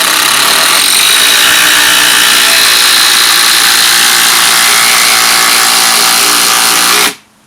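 A Makita DTD171 impact driver hammers a bit into dry H3/H4 treated timber with a loud, continuous rapid rattle that holds steady for about seven seconds, then stops abruptly.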